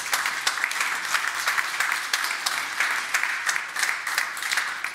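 A studio audience at a talk show applauds steadily, with dense clapping that stays even and moderately loud throughout, no voices over it.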